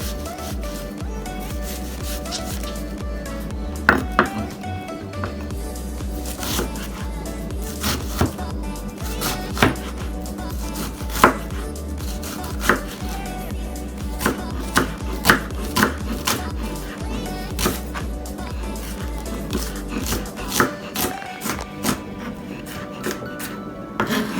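A red onion sliced with a knife on a board, giving a steady run of close, crisp chopping taps with a few sharper knocks over a faint background hum.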